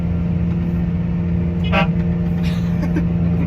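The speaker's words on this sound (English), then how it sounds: "My favorite part is the air horn." A short honk from a New Holland forage harvester's air horn cuts in briefly over a loud, steady engine drone, with a couple of fainter toots following.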